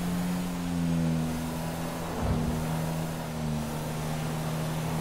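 A car engine in the video game GTA V hums with a steady droning tone, its pitch rising and falling slightly as it drives, a continuous moderately loud motor sound with no talk.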